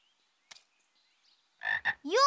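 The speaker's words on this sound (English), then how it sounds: "Whoa, a frog." A cartoon frog lets out a pair of short, loud croaks after a stretch of near silence, followed at once by a voice.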